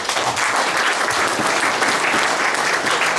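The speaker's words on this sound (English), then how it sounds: "a round of applause for all of us because we all won yesterday" Steady, dense applause fills a meeting hall after a protest victory, many hands clapping continuously and evenly at close range, with no break in the sound.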